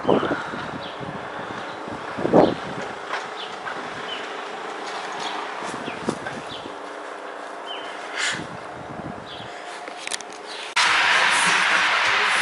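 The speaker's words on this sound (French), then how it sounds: "Il y a du vent." Steady wind buffeting the microphone outdoors at La Défense, Paris, a constant rushing roar throughout, growing stronger near the end.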